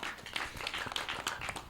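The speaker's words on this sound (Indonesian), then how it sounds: "tepuk tangan dong." An audience at an Islamic boarding school culture forum applauds with a short, moderately faint burst of scattered handclaps that rises and falls unevenly, with no speech over it.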